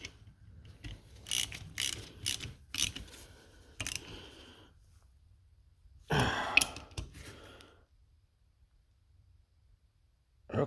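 A ratchet wrench snugs down long 7/16 bolts on a John Deere A tractor's charging system, short bursts of close clicking separated by quiet pauses, with breathing sounds between.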